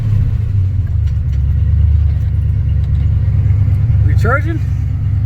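A 440-swapped Dodge Duster's engine runs with a loud, steady, close-up rumble throughout, with a brief spoken voice over it near the end.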